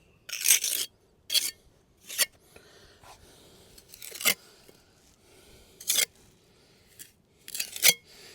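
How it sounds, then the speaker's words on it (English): Steel trowel scraping and smoothing mortar on a stone cabin foundation, heard as about seven short, close rasping strokes in an irregular rhythm with quiet gaps between them. "this side here already has plenty of mortar, just a case of smoothing it, neatening it up a little bit"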